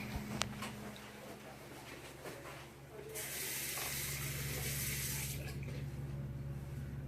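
A sink tap opens and water runs steadily into the basin, a bright hiss that starts after a few seconds of quiet handling noise and continues strongly, with faint indoor background.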